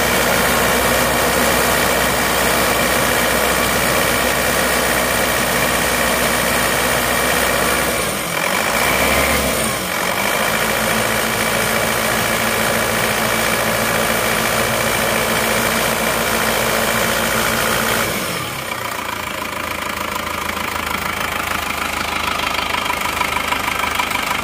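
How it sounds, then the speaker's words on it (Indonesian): An Isuzu Panther LS diesel engine with an automatic transmission idles on an RH13 injection pump with racing nozzles, a loud, close, steady clattering drone that dips briefly midway and shifts tone near the end. "Ini hidupnya mesinnya masih pakai RH13, suaranya seperti ini."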